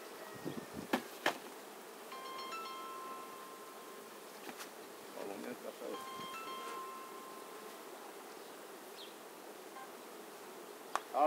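Honeybees buzz around an opened beehive while the brood nest is being cleared. A soft, steady drone hums throughout, with a few brief knocks and handling clatters up close.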